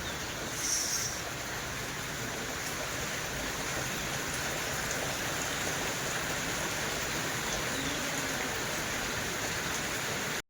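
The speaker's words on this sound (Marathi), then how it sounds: "बापरे इतका जोराचा पाऊस पडतोय ना खूप जोराचा पाऊस" Heavy cloudburst rain in Sangola pours down steadily, a dense, unbroken roar of water without pause, fairly loud and close throughout.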